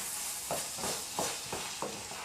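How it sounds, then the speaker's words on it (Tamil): Ginger garlic paste sautéed in a pan for mutton kuzhambu, a soft, continuous sizzle under a rhythmic run of about five quiet stirring scrapes spaced roughly a third of a second apart. "இஞ்சி பூண்டு விழுது சேர்த்துட்டு நல்லா வதக்கிடலாம்"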